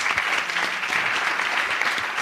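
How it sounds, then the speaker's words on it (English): An audience at a fellows summit and congress bursts into dense, sustained clapping, loud and continuous with no talk over it. "Round of applause."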